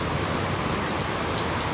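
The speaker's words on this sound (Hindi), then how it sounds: "लो जी, बारिश भी शुरू हो गई है जी।" Rain falling outdoors, a dense, steady hiss of drops pattering on surfaces that stays loud and even throughout with no other sounds.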